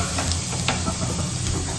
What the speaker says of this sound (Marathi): तर त्या तेलात आपण पहिल्यांदा घेतली आहे मोहरी घेतली मित्रांनो. त्यानंतर आपण टाकणार आहे जिरे टाकणार आहे